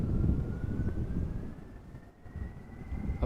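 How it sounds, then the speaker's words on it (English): A Delta Airlines Airbus A330-300 heavy jet at Amsterdam Schiphol airport gives off a steady, distant engine roar mixed with wind buffeting, holding at a moderate level for a few seconds with no talk. "Delta Airlines flight 257, Airbus A330-300, destination Boston"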